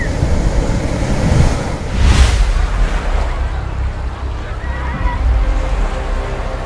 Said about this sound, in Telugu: అరేబియా సముద్రపు అందమైన అలల మధ్య